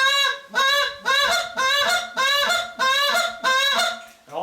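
A goose call is blown in a fast cluck-and-moan pattern, seven or eight sharp, loud honking notes in steady rhythm, close and clear with no talking.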